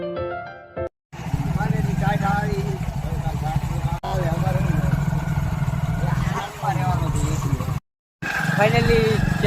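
Several motorbikes start up and pull away one after another, setting off from a house toward the Ashapura temple; loud steady engine drone fills the clip with brief gaps, and voices are heard over it.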